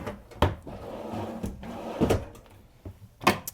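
Drawers and a cabinet in an RV bathroom being slid open and shut, four or five short wooden knocks and thuds spaced apart in a quiet room.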